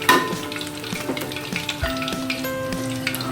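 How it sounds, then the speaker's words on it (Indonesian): Chicken balls with quail eggs deep-fry in hot oil over a low flame, a busy crackling sizzle with scattered pops and the scrape of stirring, close and clear with no talking. "kita goreng sampai warnanya keemasan"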